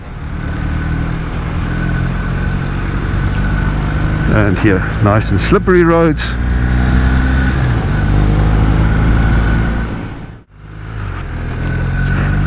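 BMW R1250R motorcycle ridden on a slippery road, with a steady engine drone and wind rush throughout, one brief throttle blip in the middle, and a rider speaking over it.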